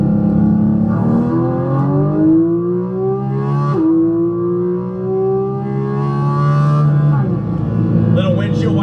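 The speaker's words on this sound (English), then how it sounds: "Downshifts." A car engine downshifting, its tone stepping between gears in a steady rising and falling drone heard close, with some talk alongside.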